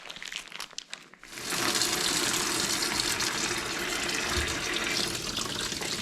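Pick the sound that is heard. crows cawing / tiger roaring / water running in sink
water running in sink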